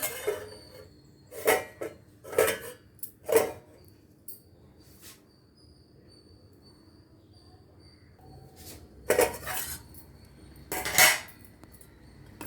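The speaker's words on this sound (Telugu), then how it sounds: "కాసేపు మూత పెట్టేద్దాం" Metal clanks against a pot of toor dal and Ceylon spinach in a few sharp, close knocks, then a quiet stretch before two louder clatters, as a lid is set on; no speech.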